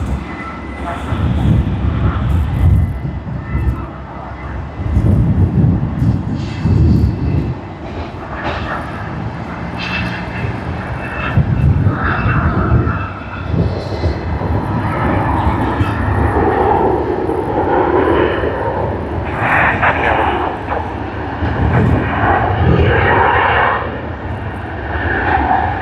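Airliner engines rumble and roar at Sydney Airport on a Friday evening, a loud, sustained wash of jet noise that swells and eases over the stretch, with faint voices underneath.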